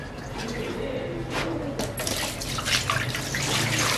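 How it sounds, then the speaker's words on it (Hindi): Water poured into a wide metal tray for making Kashmiri bakarkhani dough splashes and gurgles steadily and fairly close, growing brighter as the pour continues. "सबसे पहले परात में डाल लेंगे पानी"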